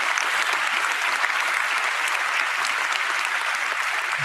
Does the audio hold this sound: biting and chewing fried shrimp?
no